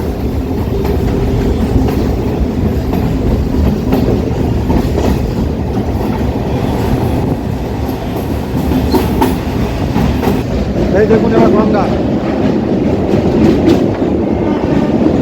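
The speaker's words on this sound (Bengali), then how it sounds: "পুরো গঙ্গার পাশ থেকে যাচ্ছে ট্রেন" A Kolkata Chakrarail suburban train runs beside the Ganges near Khidirpur dock, with a loud, continuous rumble and rhythmic clickety-clack of wheels heard from on board. A voice briefly speaks over it.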